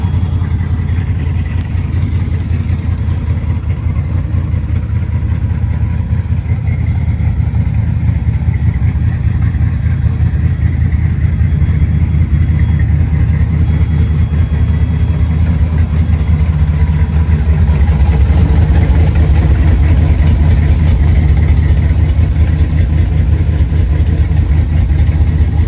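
An Oldsmobile Cutlass engine idling with a loud, steady low rumble close by, continuous throughout with a slight rise in intensity toward the end.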